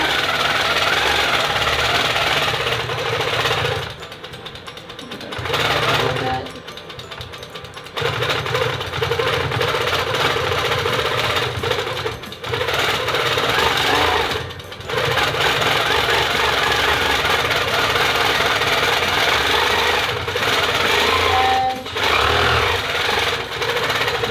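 A longarm quilting machine stitches a T-shirt quilt, its steady mechanical chatter running loud and continuous, broken by a few short pauses as it stops and restarts.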